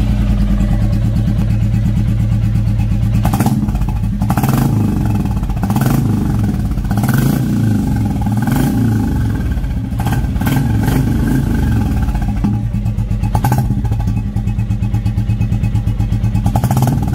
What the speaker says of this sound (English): free flow band pipe with HK Indori exhaust sound.